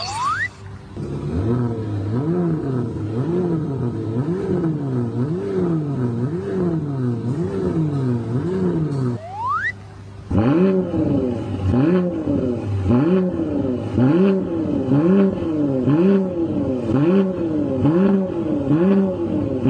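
A Porsche Cayenne Coupe SE Hybrid engine revved with its exhaust valves open, loud and close, rising and falling in steady repeated revs with a brief pause midway, and no talking.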